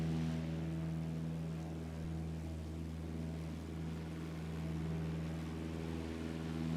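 Steady drone of an aircraft engine throttled up in Microsoft Flight Simulator, a constant low hum with strong tonal harmonics and a slightly fluctuating level, heard alone without talk.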